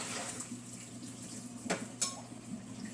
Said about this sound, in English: the pot is currently being filled with water